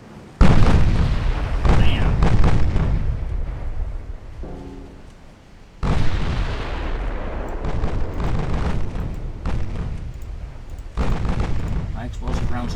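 Naval guns fire in the warship game Ultimate Admiral Dreadnoughts, loud deep booms arriving in a few heavy salvos, each trailing off in a long rumbling roar.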